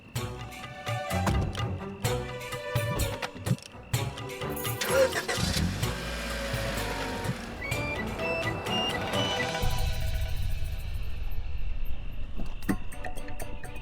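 A repaired car's engine cranks and starts, then settles into a steady running drone, moderately loud and close, with chirping insects audible in the background.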